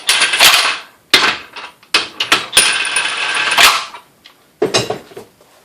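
A cordless DeWalt DCF899 impact wrench tightens lug bolts in loud, rattling hammering bursts of one to two seconds each, separated by short pauses.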